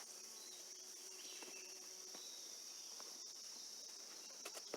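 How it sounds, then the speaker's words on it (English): A steady, high-pitched insect drone fills the air outdoors, with a brief lower buzz drifting past partway through. "Listen to all the bees."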